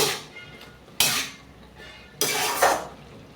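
Fried small fish being mixed with bet greens, potato and eggplant in a pan, with a few loud metallic scrapes and clanks of a spatula against the pan, separated by quiet gaps.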